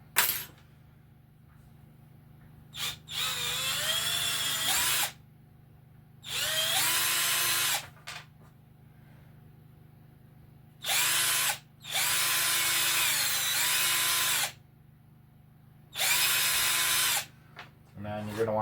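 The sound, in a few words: electric drill drilling blocks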